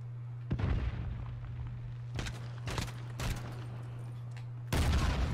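Explosions and gunfire in a Call of Duty Modern Warfare 2v2 match: several sharp, heavy blasts burst out at irregular intervals, one loud grenade-like boom at the end, over a steady low hum.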